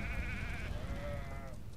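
Goats bleat in the Hogwarts Legacy video game, a wavering animal cry that rises and trembles over a steady low ambient rumble, with no talking.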